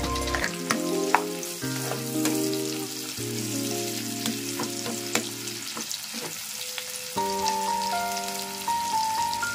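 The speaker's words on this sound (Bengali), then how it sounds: "নিভু আছে যাতে পেঁয়াজটা একটু ভাজা ভাজা হয়ে যায়" Onions sizzle and crackle steadily as they fry in oil over a low flame, with occasional clinks and scraping of stirring over a faint background tone.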